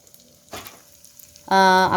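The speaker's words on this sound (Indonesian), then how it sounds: "Terus langsung diceburin ke minyak panas." A brief hiss of cakue dough dropped into hot oil, then a louder, bubbling sizzle rises and holds.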